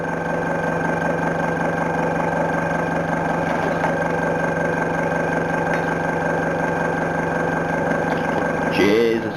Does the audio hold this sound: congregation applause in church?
no